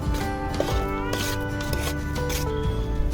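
Chili powder is stirred into Maggi noodles in a pan, the spoon scraping and rubbing the bottom in steady, repeated strokes, close and clear with no talking.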